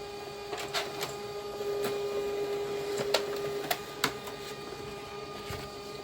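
A printer runs a stained glass pattern onto 70 lb cardstock with a steady mechanical whir, punctuated by several sharp clicks and clacks as the paper feeds through.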